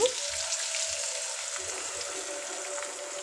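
Ridge gourd pieces fry in a hot oil tempering, giving a steady, close sizzle that stays level throughout with no talking.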